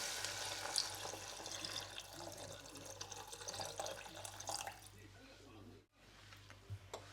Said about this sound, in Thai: เราก็จะเติมน้ำลงไปนะคะ